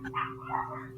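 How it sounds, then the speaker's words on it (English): A single dog bark, faint and somewhat distant, over a low steady hum. "excuse me for all the barking."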